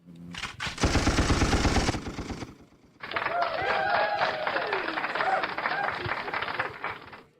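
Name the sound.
snooker audience applauding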